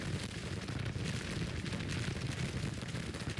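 Cannon fire and battle rumble in the strategy video game Grand Tactician: The Civil War, a dense continuous low roar of artillery with steady booming texture and no talking.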